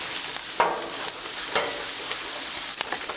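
Cajun pork sausage, already cooked, browns in a hot pan with a steady, close sizzle and crackle, broken by a few sharper pops and stirring scrapes, with no talking.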